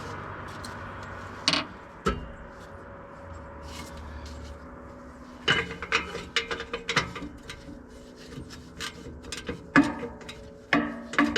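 A socket wrench ratchets on small 12 mm or 7/16 bolts on a Gehl 6635 SXT skid steer, giving bursts of clicking and metallic clinks with pauses between, close and fairly loud.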